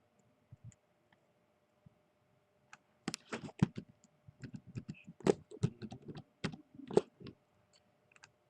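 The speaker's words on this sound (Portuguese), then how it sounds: "Vou ajustar isso aqui no teclado." Computer keyboard typed in close-up while a MySQL database user-registration form is set up in Lazarus/Delphi: sparse single key clicks at first, then a dense, irregular run of clicking keystrokes. No one speaks.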